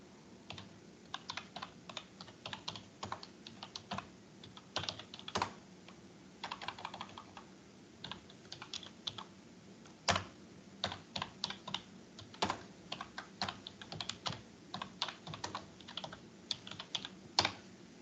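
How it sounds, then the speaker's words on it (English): A computer keyboard is typed on continuously, with quick irregular clusters of close, fairly quiet key clicks and brief pauses, and no talking. "Then you start typing"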